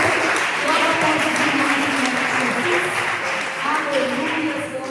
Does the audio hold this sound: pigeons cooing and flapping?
no